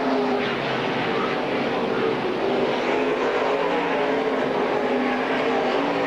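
Limited late model stock cars race around the Silver Spring Speedway oval in a 1991 event, their engines producing a loud, steady, continuous roar throughout with no break.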